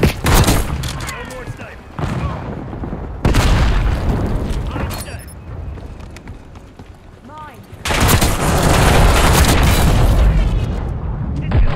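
Shotgun blasts and gunfire crack through a hectic Call of Duty Black Ops 6 match, with loud bursts at the start and again near the end over a dense layer of game noise and speaking voices.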